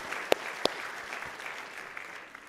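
Church congregation applauding Jesus during a Christmas sermon, a steady wash of crowd clapping with a couple of sharp, louder claps up close.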